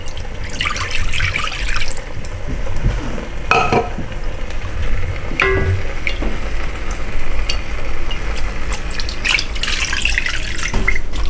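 Marinated pork with onions and curry leaves sizzles in a pan as water is poured in and stirred, a steady hiss of frying with scraping and splashing, no voices.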